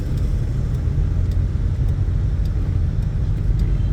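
Slow road traffic with motorcycles passing close, a loud, continuous low engine rumble without pauses.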